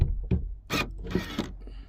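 A tailgate latch on a VW Transporter T6, fitted with an internal release switch, unlatches in a short series of close mechanical clicks and clunks, followed by a brief rattling release.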